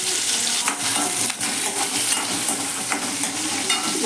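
Shallots, garlic and two green chillies with a little rock salt fry in hot oil, giving a steady, loud, close sizzle with occasional scrapes of a stirring spoon.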